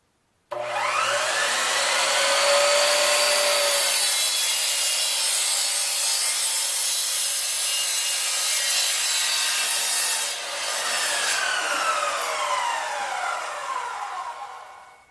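A 3.5 inch intake pipe for a Camaro turbo setup is sawn through, giving a steady, loud cutting rasp that runs continuously for about ten seconds, dips briefly, then carries on to the end with no talking.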